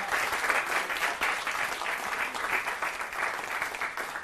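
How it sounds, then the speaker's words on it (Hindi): An audience at a New Year 2023 poetry gathering claps to welcome a poet, a fairly soft, sustained wash of many hands that never lets up and carries no voices over it. "तालियों के साथ स्वागत मुस्कान शर्मा जी का।"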